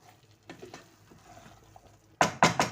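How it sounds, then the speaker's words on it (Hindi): Mash and chana dal with green chillies roast in a pan while a spoon stirs it, soft scraping at first, then three loud close scrapes and rattles near the end. "हमारे दाल की भुनाई हो रही है"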